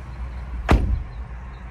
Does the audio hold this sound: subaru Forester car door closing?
yes